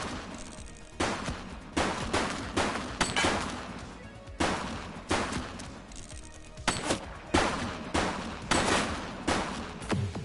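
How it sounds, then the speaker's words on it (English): Gunfire in a police video game set in a precinct: about nine dense bursts of rapid shots, loud and close, separated by short pauses across the whole stretch. "She's shooting!"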